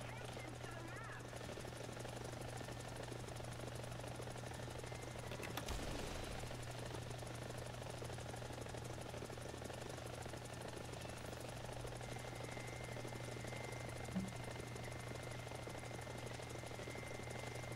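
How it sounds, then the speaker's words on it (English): An enemy helicopter in War Thunder flies somewhere out of sight, a faint steady rotor drone with a low engine hum holding constant throughout, distant and low in the mix. "Oh, we got an enemy chopper."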